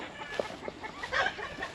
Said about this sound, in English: You scared the birds, Abel.